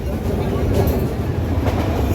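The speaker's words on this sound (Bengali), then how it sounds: "আমি রয়েছি শেওড়াফুলি ট্রেনে" A crowded Sheoraphuli local train rumbles along with a steady, close clatter of wheels on rails, and a murmur of passengers' voices sits underneath.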